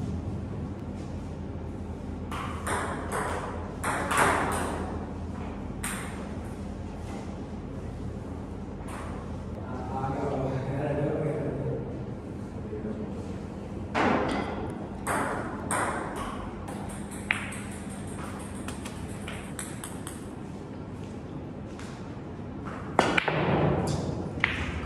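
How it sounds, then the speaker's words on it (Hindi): Table tennis ball knocks during casual play, scattered sharp pings and taps of the ball on paddles and table in a room, irregular and fairly faint, with a few quiet background sounds between rallies. "हमने कुछ नॉक्स और खेले टीटी पर"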